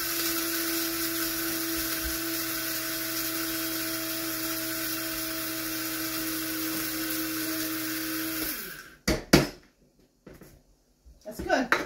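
An electric grinder whirs loud and steady for about eight seconds, pulverizing dehydrated onions and chili flakes, then cuts off abruptly and is followed by a few knocks and handling bumps.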